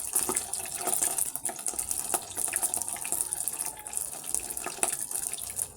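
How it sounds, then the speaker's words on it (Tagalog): Burger patties fry in hot oil, giving a steady bright sizzle broken by frequent sharp pops and spatters from water in the meat, heard up close. "Pumutok-putok siya kasi may tubig siya."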